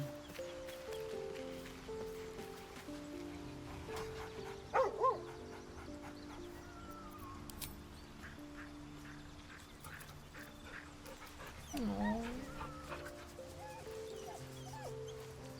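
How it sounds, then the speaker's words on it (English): The dog Scratch in Baldur's Gate 3 gives two short yips and then a whimpering bark later, faint against a soft, steady game music backdrop. "I love that they give you a dog."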